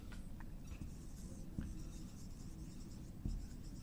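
A teacher writes examples on a board, giving faint, scratchy strokes with a few soft taps in a quiet room, with no talking.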